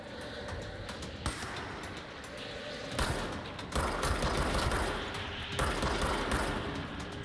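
Sniper gunfire in the video game Control: rapid bursts of shots rattle loudly in clusters, with heavy blasts around three and six seconds, over a steady backdrop of game noise.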